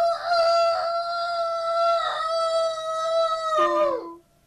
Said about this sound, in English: Then the cock was so distressed that he cried aloud